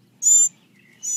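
A baby bird gives two short, high, thin chirps separated by a brief pause, close and clear against near silence.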